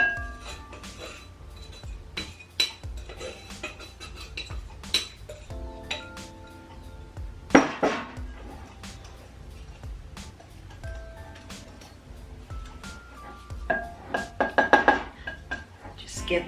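A Danish whisk working keto chocolate chip cookie dough in a bowl, giving scattered clinks and scrapes against the bowl at an uneven pace, close by, with a louder knock midway and a flurry of clatter near the end.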